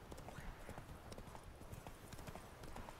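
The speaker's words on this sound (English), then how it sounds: "Hey, be nice to the horse." Horse hooves clip-clop steadily in The Witcher 3 video game, a quick, even rhythm of soft thuds under a faint background hum.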